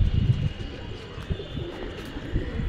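Giribaz flying pigeons coo at a pigeon farm in Rajshahi, giving low, soft, throaty coos close by, with a breathy wind-like rustle underneath and no talking.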